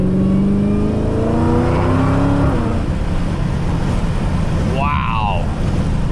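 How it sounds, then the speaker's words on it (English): A 2020 Shelby GT350 on its stock exhaust accelerates through a pull from inside the car, the engine note rising loudly for a few seconds before the driver lifts off. A rumbling exhaust drone follows, with a brief higher sound near the end. "The stock exhaust on the red eye really does sound mean."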